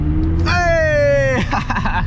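A McLaren engine blips sharply during a downshift, a brief rising-then-falling rev burst over low road rumble while driving through London streets.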